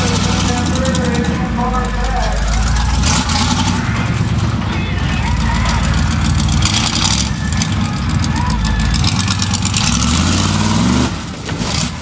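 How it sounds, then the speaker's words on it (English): Old-school Hawk monster truck engine idling and revving loudly at an outdoor car-crushing show, showing off its tilt bed before a crowd, a continuous heavy rumble with a voice talking over it. "Jeff Cook bringing out that beautiful old school Hawk monster truck, showing off the tilt bed right in front of the crowd"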